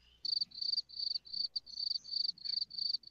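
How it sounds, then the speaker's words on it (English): Crickets chirping at night in steady, rapid pulsing bursts, close and clear, with faint low background noise and no voices. "When the crickets come out."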